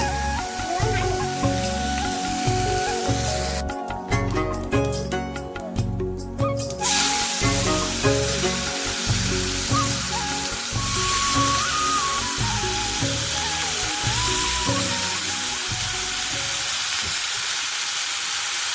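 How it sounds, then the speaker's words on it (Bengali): Fish fries in hot oil as a steady sizzling hiss, briefly louder in one burst, heard under rhythmic background music. "যেহেতু মাছ ভাজা এক সাইডে হয়ে যায় তো আর একটু পাল্টাতে একটু সময় লাগে না"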